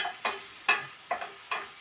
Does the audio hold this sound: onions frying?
yes